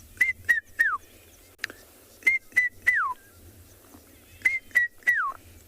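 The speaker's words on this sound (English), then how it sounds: "the red-chested cuckoo that goes" A red-chested cuckoo gives its three-note whistled call, the last note sliding down, repeated three times in clear loud phrases over a low rumble at dusk on a South African safari.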